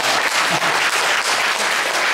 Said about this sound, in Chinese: 我们给他们拍手鼓励一下